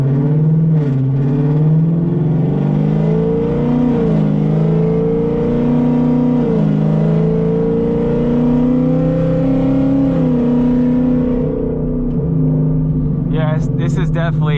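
Whipple-supercharged S650 Mustang GT fitted with long tube headers, its engine droning and rising and falling in pitch through a steady, loud run, with a person talking over it.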